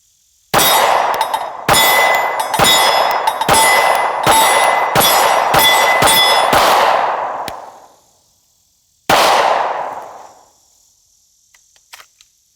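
Ten sharp, loud reports from a Sig Sauer P365 XL pistol firing 115 grain V-Crown jacketed hollow points, nine in a quick, slightly uneven string and a final shot after a pause, each ringing out briefly.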